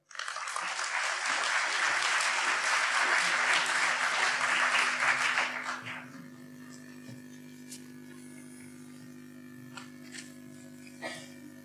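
A lecture audience welcomes the philosopher speaker with warm applause, a full, loud wash of clapping that holds for about five seconds and then fades out, leaving a quiet room with a low steady hum and a few faint knocks.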